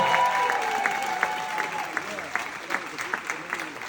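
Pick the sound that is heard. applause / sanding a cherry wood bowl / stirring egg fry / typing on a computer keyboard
applause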